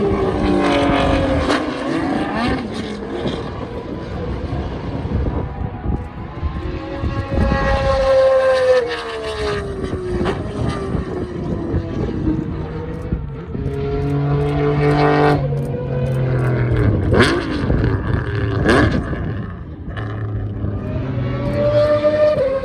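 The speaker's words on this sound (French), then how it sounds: "le dernier roulage de Formule 1 que l'on va suivre dans le 3e secteur" Historic Formula 1 race cars scream past in succession at a French historic Grand Prix, high-revving engines rising and falling with gear changes and pitch sweeps as each car nears and fades, loud and continuous.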